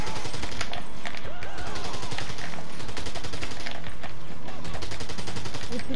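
Sustained bursts of automatic gunfire from a weapon in GTA 5, loud and dense with rapid repeated shots across the whole stretch and faint voices underneath.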